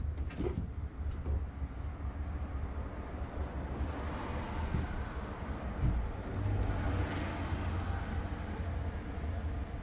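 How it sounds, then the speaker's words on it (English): Cars pass on a city street beside a campervan being built, a steady broad rumble of traffic with a louder swell around the middle and near the end, continuous and fairly close throughout. "You will see cars driving by because we are on the street."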